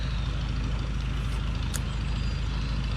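A Minneapolis Moline R tractor engine warms up at idle outside a barn, a steady low rumble running evenly throughout at a fairly close distance.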